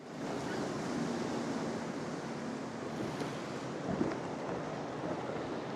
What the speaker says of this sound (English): The swell bouncing back's bigger than the swell coming in.